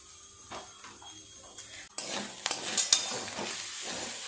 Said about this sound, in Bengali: আলু মাছ সব মশলা এইভাবে সুন্দর করে একটু ঘেঁটে ঘেঁটে নেড়ে নেড়ে ভাজা করে নিতে হবে